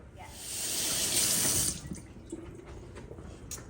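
Running tap water splashes loudly into a crock pot as it is rinsed, a close steady gush that stops after about a second and a half and gives way to faint drips and light knocks.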